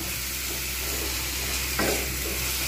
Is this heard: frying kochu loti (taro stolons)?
yes